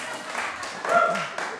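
An audience at a talk claps for about two seconds, a steady patter of applause that swells briefly in the middle while a voice speaks over it.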